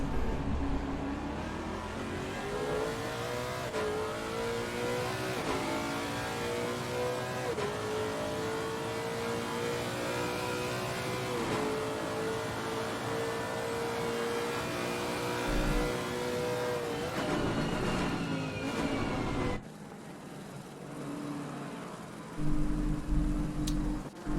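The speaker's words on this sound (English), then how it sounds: "So Allenby, just coming into that corner, must have taken Holmberg and is now roaring down the straight ahead of him" Race cars at Paul Ricard roar down the straight in a loud, continuous engine drone that climbs through the gears with repeated rising pitches, then drops away as the cars pass and fade.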